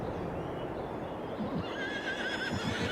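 A horse in Farming Simulator 22 gives a clear whinny, rising and wavering toward the end, over a steady low rumbling background with faint hoof-like thuds.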